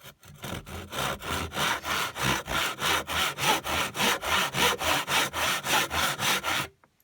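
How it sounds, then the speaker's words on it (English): A hand saw cuts through wood for a spice rack joint, with about twenty steady, evenly spaced back-and-forth strokes filling the clip at close range before stopping abruptly. "I'll cut on the middle, so it's easier to chisel out"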